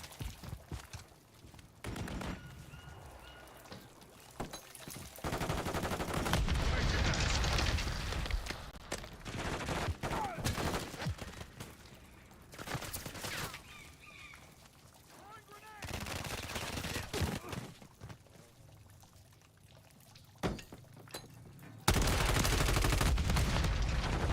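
Dense automatic gunfire and single shots crackle through a Modern Warfare III multiplayer match, bursts swelling and fading over a continuous battle din, with game voice lines speaking faintly beneath.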